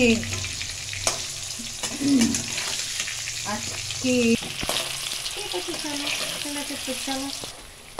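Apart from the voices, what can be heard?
potatoes frying in a pan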